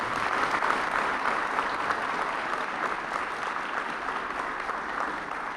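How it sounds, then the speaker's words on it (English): Steady, dense applause from a crowd at a press conference introducing a new basketball head coach, sustained evenly at a moderate level with no voices on top. "So please give her a round of applause."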